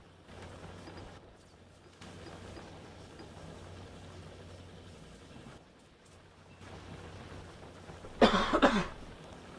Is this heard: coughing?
yes